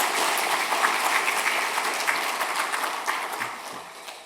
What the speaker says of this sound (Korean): 감사의 마음을 담아 다시 한번 큰 박수로 인사해 드리겠습니다